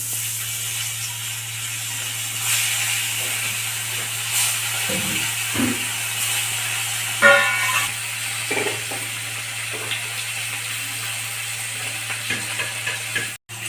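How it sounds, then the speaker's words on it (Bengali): Parshe fish fry in hot oil in a pan with a steady, even sizzle and a low hum, and a brief clatter of utensil contact partway through. "বাকি মাছগুলো এইভাবে ভেজে নেব।"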